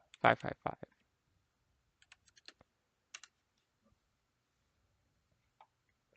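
Quick bursts of typing on a computer keyboard while searching for a basic NE555 circuit, a dense rapid flurry at first, then scattered soft clicks in a quiet room.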